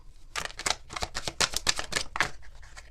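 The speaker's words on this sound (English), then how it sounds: "One more shuffle here, Aries." Tarot cards are shuffled close up in quick, crisp riffling bursts, a rapid flutter of card edges that pauses briefly before a final few snaps.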